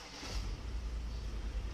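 An Audi Q5 diesel engine turns over and settles into a steady low rumble, heard from inside the cabin with a broad wash of noise and no talking.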